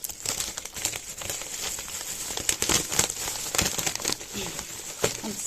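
Paper and bubble wrap crinkle and rustle continuously as a parcel is unwrapped, with dense, close crackles and crumpling bursts throughout and no talk.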